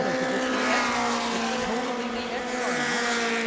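Race cars lapping at New Smyrna Speedway in a weekly racing event, several engines droning and shifting pitch as they pass, loud and constant, with a track announcer talking faintly underneath.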